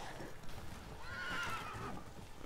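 A horse in The Witcher 3: Wild Hunt gives a clear whinny midway, its wavering neigh rising over a low background with faint hoof clatter, heard fairly close.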